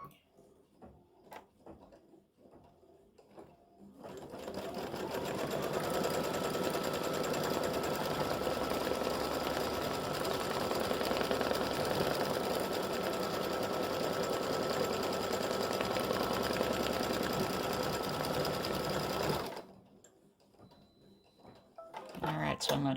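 An embroidery machine stitches the tack-down on an appliqued gnome design, a fast, steady mechanical chatter running about fifteen seconds, starting and stopping cleanly between quieter stretches.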